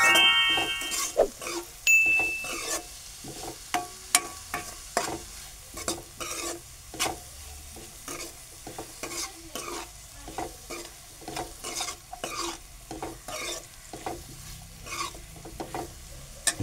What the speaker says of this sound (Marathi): मीठ पण चांगलं ढवळून घेऊ सगळीकडनं.